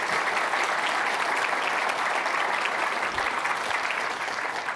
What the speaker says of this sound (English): they deserve a big round of applause from all of you for being here